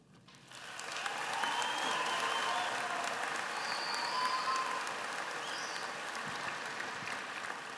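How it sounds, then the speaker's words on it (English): Sustained audience applause fills a graduation ceremony hall, a steady wash of many hands clapping that swells in within the first second and holds evenly, moderately distant, with no talking over it. "Let's give our outstanding graduates another round of applause, if you will."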